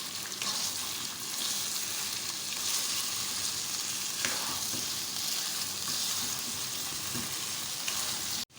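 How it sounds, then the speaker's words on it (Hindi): Mutton pieces frying in a pan with ginger garlic paste for a dhuwan dahi gosht, a steady close hiss and crackle of hot oil with occasional stirring scrapes, continuing without a break until it cuts off. "अब हम इसको अच्छे से 1 मिनट के लिए फ्राई करेंगे अदरक लहसुन के साथ गोश्त को"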